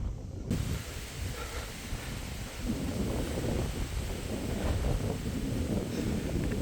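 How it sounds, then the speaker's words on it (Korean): Steady wind blowing outdoors on a scenic spot in the northern Gyeonggi-do countryside near Namyangju, a continuous low rumbling buffet across the microphone throughout, with no voices. "신기하게 찹찰하네 바람이 시원해"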